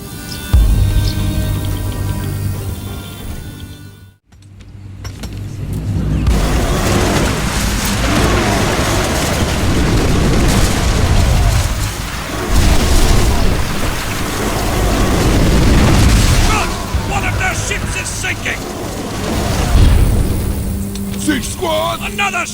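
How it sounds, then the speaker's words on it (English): Ships blown apart in a naval battle in the game Ancestors Legacy: a loud, continuous roaring rumble full of crashing bursts, with a brief drop to near silence before the din resumes and rolls on. "One of their ships is sinking! Another ship destroyed!"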